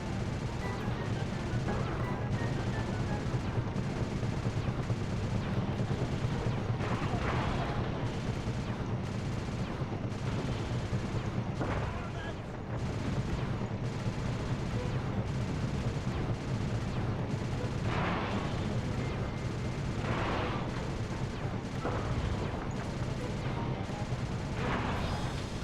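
Sustained gunfire in the Sly 2 game as Bentley shoots down a gunship at a temple, a dense run of repeated loud shots and crashes over steady rumbling battle noise, with no talk.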